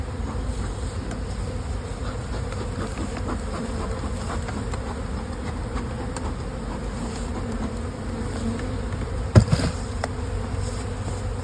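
Honeybees hum densely and continuously around nuc hive boxes, a loud, close, even buzz throughout with one brief knock near the end.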